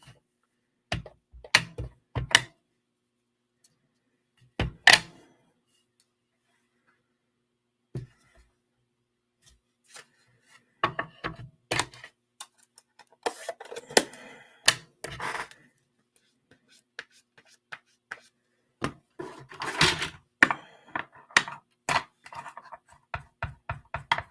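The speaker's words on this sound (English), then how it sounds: "I'm going to go ahead and stamp the mushroom on some scrap paper" A rubber stamp with a mushroom design is pressed onto scrap paper, giving sparse, sharp taps and knocks separated by silence, with clusters of small handling clicks and rustles close by.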